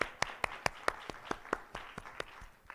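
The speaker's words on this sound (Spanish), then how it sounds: "le damos un aplauso al grupo número 1 porque ha terminado su presentación" A small workshop group gives a brief, faint round of applause, with a few distinct individual claps in loose rhythm fading after about three seconds.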